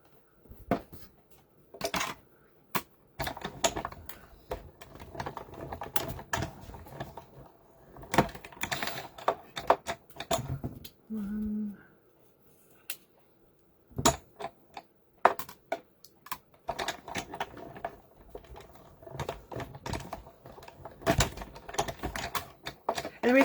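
Die cutting machine running paper Christmas tree shapes through, a steady scatter of light clicks and ticks with short mechanical whirrs, fairly faint and close, no talk.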